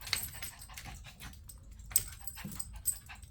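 An excited dog bounces around wanting attention, with faint whimpers, snuffling pants and scuffling thumps coming in short irregular bursts, close but quiet.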